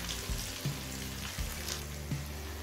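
Ginger and spices frying in a pan for a Gobindobhog rice vegetarian khichuri, a steady close sizzle with faint crackles and a few soft clinks of a utensil against the pan.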